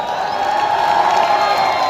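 A huge crowd at a political rally in Bhiwandi roars and cheers in a steady, dense wash of voices with some clapping, continuous and loud throughout with no single speaker standing out.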